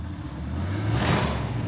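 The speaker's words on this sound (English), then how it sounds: "I start hearing this really killer exhaust coming from outside the shop" A custom car's deep exhaust rumbles from outside a custom garage, a steady low drone that swells a little louder partway through, heard at some distance with no talking.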